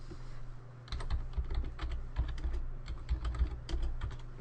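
Rapid keystrokes on a computer keyboard while entering disk commands in Windows 7, a dense irregular clatter running steadily for several seconds over a low background hum.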